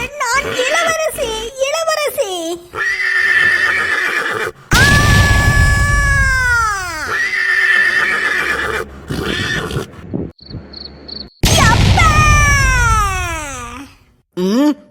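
A cartoon horse in a Tamil animated show lets out long, loud whinnies that slide downward in pitch, repeated in close bursts with short, choppy noises between them.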